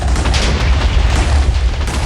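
Custom missile explosions in Minecraft, spawning twenty a second, blend into one loud, continuous rumbling roar of overlapping booms, close and dense without a break, no talking.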